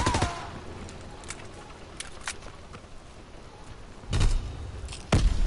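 Scattered gunfire in a WW2 shooter game's French Resistance mode, sparse distant shots with two louder nearby bursts toward the end, no talk over it.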